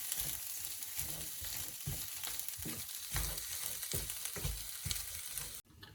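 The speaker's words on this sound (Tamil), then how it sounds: "இந்த தேங்காய் பூ வறுத்து வச்சுருக்கோம் தானே, அதையும் இதுக்கு ஆட் பண்ணி மிக்ஸ் பண்ண வேணும்" Roasted grated coconut is being mixed into onions in a frying pan for crab pittu, producing a continuous sizzle broken by repeated scraping strokes of a spoon, close and moderately loud, stopping abruptly near the end.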